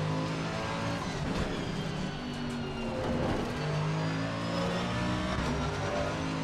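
Race car engine in Assetto Corsa Competizione, a front-engined GT car, revving loud and steady through first gear with rising and falling pitch, near and continuous with no talk over it.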